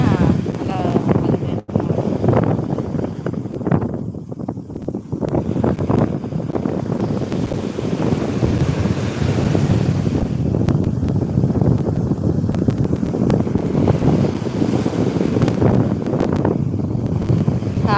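Sea waves break on a beach in a steady, continuous wash under heavy wind buffeting the microphone, loud and close throughout.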